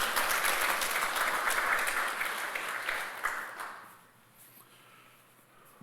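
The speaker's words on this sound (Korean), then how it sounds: "우리 박수로 한번 격려하시겠습니다." Congregation applause in a Sunday church service, a dense broadband wash of many hands clapping that holds strong for about three seconds, then thins and fades to a quiet room.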